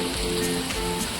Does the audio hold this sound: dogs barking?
no